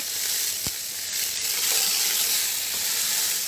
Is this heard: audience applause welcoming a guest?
no